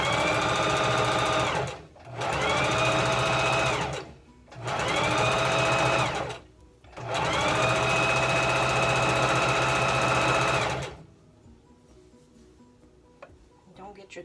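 A sewing machine stitches a zigzag seam in turquoise thread on a fabric shoe bag, running in four loud, steady whirring bursts separated by brief pauses, then falling quiet.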